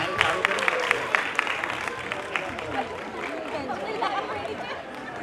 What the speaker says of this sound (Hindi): सो जोरदार तालियों के साथ हमारे अगले परफॉर्मेंस को स्टेज पे बुलाया जाए